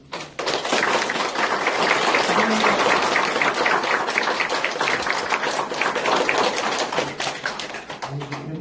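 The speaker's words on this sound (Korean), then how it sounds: "저한테 축하 박수" Congratulatory applause from an audience at a retirement farewell speech after more than 32 years at Korea's National Pension Service: dense, steady clapping filling the room for several seconds, with a brief spoken thanks over it.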